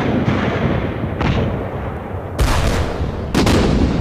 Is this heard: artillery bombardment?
yes